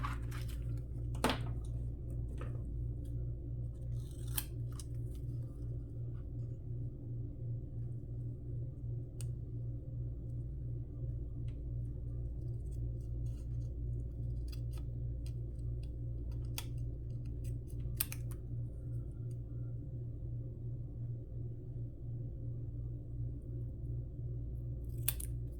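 Scissors snip away excess paper from a crafting project, with sharp cuts scattered over a steady low electrical hum and no talking.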